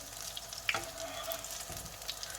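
Chicken potato tikki kebabs fry in hot oil with a steady, fairly quiet sizzle, broken by a brief sharper crackle near the start.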